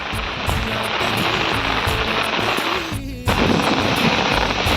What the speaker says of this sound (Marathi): पाऊस आला बघ